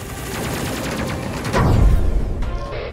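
Ship guns fire in the space game Space Crew: a fast, steady volley of shots builds into a heavier booming blast, then trails off with a short electronic tone.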